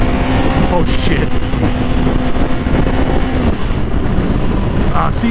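Steady, loud wind rushing past a rider on a 600cc sport bike, a continuous broadband roar with engine drone beneath, heavy buffeting throughout and no clear breaks.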